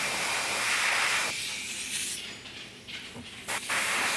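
Airbrush or spray gun hissing steadily while paint is sprayed over a custom quarter-scale Spiderman figure, a loud continuous broadband spray that drops away midway and returns in short bursts near the end.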